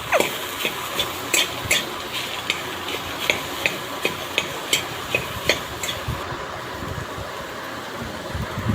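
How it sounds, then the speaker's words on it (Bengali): Potatoes being stirred in a pan during singara filling preparation, with a steady run of distinct scraping clicks from the utensil over a low, continuous frying background, close and moderately loud, without talk. "আলুটা ঢেলে দিয়ে ভালো করে নেড়ে ছেড়ে নিতে হবে"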